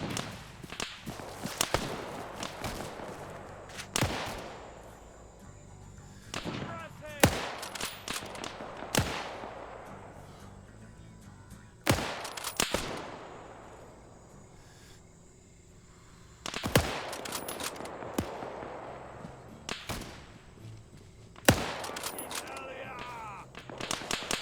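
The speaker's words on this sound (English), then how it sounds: "They're firing shotguns. You're firing shotguns at them." Shotguns fire in a video game as sharp, loud blasts in irregular clusters over busy game noise, with people talking throughout.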